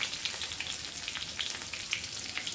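Chopped green chilies and cumin seeds frying in hot sweet oil, a quiet bright sizzle with rapid small pops and spits, close and steady without talk.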